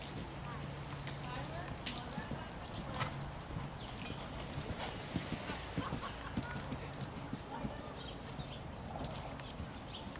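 Horse hooves canter around a riding arena during a dressage clinic, a steady rhythmic drumming of soft footfalls heard throughout, with people talking over it.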